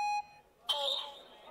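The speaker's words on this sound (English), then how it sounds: "Please leave your message after the beep." A single voicemail beep, a pure tone lasting about a fifth of a second at the start, followed by a brief pause and then a voice starting to speak.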